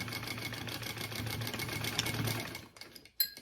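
A sewing machine stitches a handbag seam, running in a fast, steady whir close up for a few seconds before slowing and stopping, followed by a brief clunk.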